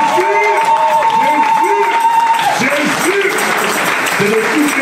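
A church congregation applauding and cheering, with sustained clapping and crowd noise throughout while voices shout and sing over it, loud and close.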